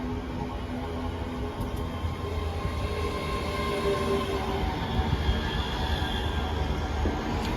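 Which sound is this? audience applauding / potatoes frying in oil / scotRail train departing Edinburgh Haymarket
scotRail train departing Edinburgh Haymarket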